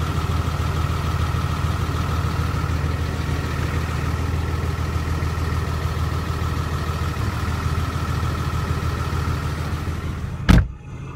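Steady, close idle of a Cummins G56 truck fitted with a Valair twin-disk clutch, clutch released, its low drone and faint gear rattle holding constant before a brief sharp knock near the end.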